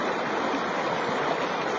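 A river flows steadily over rocks, a continuous close rushing and gurgling with no pauses and no voices.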